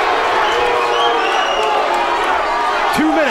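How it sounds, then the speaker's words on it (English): Roaring MMA arena crowd during Ryan Couture vs Sean Bollinger, a loud, unbroken wall of cheering and whoops filling the whole stretch, with commentary voices running underneath. "This is the loudest the crowd has been the entire night."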